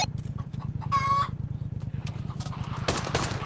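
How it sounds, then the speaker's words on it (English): A chicken in the virtual reality shooter Pavlov Shack clucks in a few short close calls over a steady low game hum, with a sharp burst of noise near the end. "It's a, it's a chicken!"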